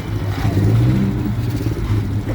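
A classic Aston Martin car engine rumbles steadily at close range during a winter vintage-vehicle run through Paris, with a low, throbbing tone that swells slightly as the car passes.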